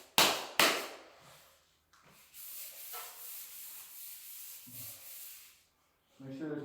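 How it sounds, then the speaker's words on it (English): A small hand block sands a drywall patch on a ceiling, with a couple of sharp knocks at the start and then long, steady, raspy rubbing strokes back and forth, nearby and moderately loud. "sand it"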